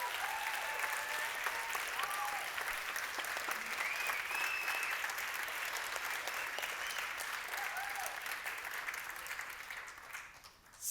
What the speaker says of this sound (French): Une bonne vague d'applaudissements pour les petites Germaines.